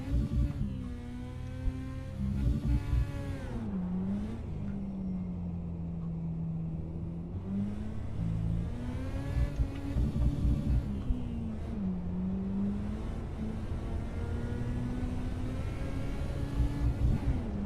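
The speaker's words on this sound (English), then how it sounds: "This car is fun. Listen to it." A speedway race car engine revs through a lap on a muddy speedway track, with a loud continuous drone whose pitch rises and falls as the car accelerates and eases off.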